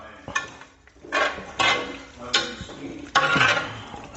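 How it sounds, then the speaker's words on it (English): Spoon scraping and clanking in a pot of meat, rice and gravy with bay leaves, in about five separate close strokes with short gaps between them, metallic and a little wet. "Get that stirred up."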